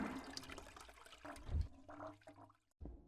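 A toilet in the game Space Station 14 flushes with a short watery rush and gurgle, ending in a brief pause and a final splash, all fairly faint.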